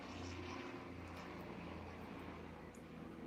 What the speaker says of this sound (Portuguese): tem um helicóptero passando aqui